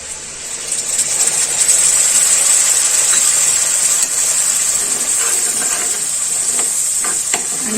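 Coconut and cumin paste hits hot oil in a pan and sautés with a loud, even sizzling hiss that holds steady throughout, with occasional scraping toward the end and no voices.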